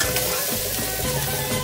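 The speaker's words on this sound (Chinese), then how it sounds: "再把鸡肉放入锅中，小火慢煎，然后翻炒一下" Chicken pieces frying over low heat in a wok with ginger slices before stir-frying, a dense steady sizzle heard up close with faint stirring movement and no talking.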